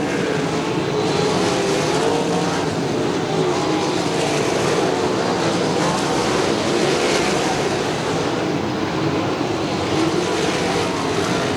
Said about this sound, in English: Wesley Smith and your leaders up into some heavy traffic now as they exit turn number 2 and down the back straightaway